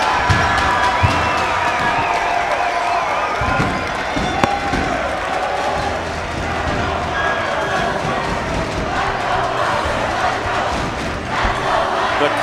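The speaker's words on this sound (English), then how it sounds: "The crowd is on its feet here at Haehl Pavilion as Piner comes up huge." A basketball crowd at Haehl Pavilion roars and cheers in a boys' league final between Piner and Healdsburg after a clutch three-pointer, a loud sustained wall of voices and shouts with scattered whistles throughout.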